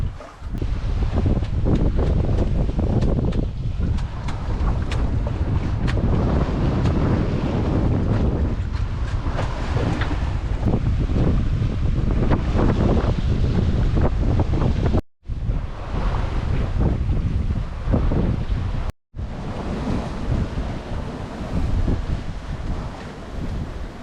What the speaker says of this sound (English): we've been sailing since, and we're now actually making okay time with the sails